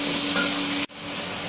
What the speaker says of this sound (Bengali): কাঁচামরিচ, রসুন, টমেটো একসাথে দিয়ে দিচ্ছি। এটা ভাজা ভাজা করব।